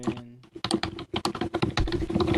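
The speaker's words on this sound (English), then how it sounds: "Mark, that is one noisy keyboard you got," Rapid clattering keystrokes on a loud keyboard, close up, after a brief tone at the start.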